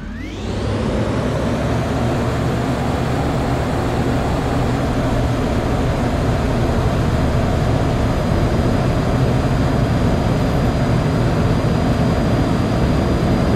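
SC Designs F-16 jet taking off in Microsoft Flight Simulator 2020, a steady loud engine roar that swells within the first second and then holds as one unbroken wall of noise, with no talking.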